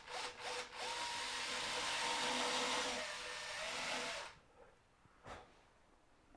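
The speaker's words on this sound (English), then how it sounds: "I'm just going to drill one of those holes." A power drill whines steadily through wood, boring a hole in a small trinket box lid, for about four seconds, then cuts out, leaving a quiet pause with a brief knock.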